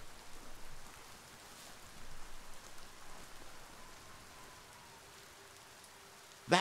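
Rain falls in the video game Biomutant, a soft, steady hiss with gentle swells, fairly quiet throughout, and a brief louder burst of sound at the very end.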